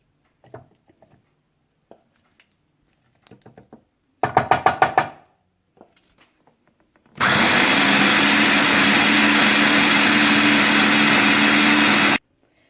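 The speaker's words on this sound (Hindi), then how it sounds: "मैं भी इसे ब्लेंडर में डालकर थोड़ा सा ब्लेंड कर लूंगी" A kitchen blender whirs loudly and steadily for about five seconds while blending boiled dates, preceded by a brief pulse and scattered light knocks and handling sounds.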